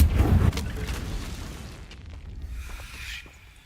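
A Confringo fire-spell blast in the video game Hogwarts Legacy hits with a heavy, close boom at the start, then trails off into a fading rumble and crackle.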